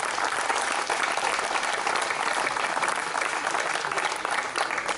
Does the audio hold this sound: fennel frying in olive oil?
no